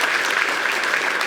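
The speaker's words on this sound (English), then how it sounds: "Give him a round of applause." Audience applause fills a room at a university basketball coach's introductory press conference, a dense, steady clapping wash that holds evenly throughout without any voices over it.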